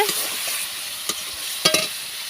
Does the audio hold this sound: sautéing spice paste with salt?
yes